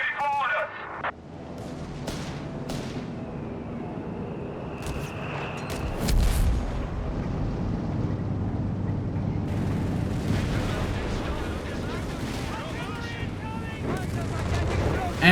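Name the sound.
mortar blasts and gunfire in video game Company of Heroes 3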